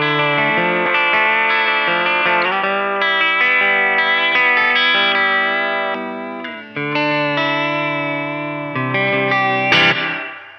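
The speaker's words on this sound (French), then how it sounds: "on va y mettre une reverb devant" Guitar run through a pedalboard of custom effects pedals with reverb added, loud sustained chords and notes washed in echoing reverb and chorus-like shimmer, swelling and changing over several seconds with no talking.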